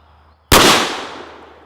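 Mossberg Shockwave shotgun firing 00 buckshot: a single loud, sharp blast after a brief quiet moment, followed by a short decaying outdoor echo.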